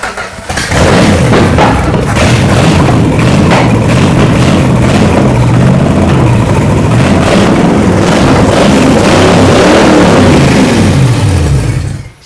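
A rebuilt Dodge V8, freed after sitting seized for 20 years, catches and runs loud and close, revving repeatedly with rising and falling surges for about eleven seconds before cutting off.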